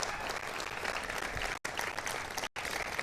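An audience applauds during a political speech on withdrawing from the Paris climate accord, with continuous crowd clapping at a moderate distance, broken by two very short dropouts.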